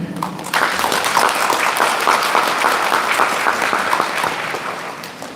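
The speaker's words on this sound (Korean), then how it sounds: "큰 박수 부탁드립니다." Loud, sustained applause from a sizable audience at a museum press event, steady clapping that begins abruptly and tapers slightly toward the end.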